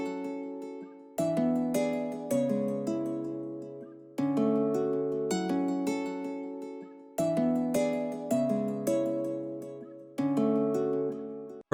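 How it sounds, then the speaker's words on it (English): A plucked guitar VST melody in FL Studio 20 repeats in short phrases, each note struck and decaying, in a steady looping pattern with no voices. "the guitar sounds like this"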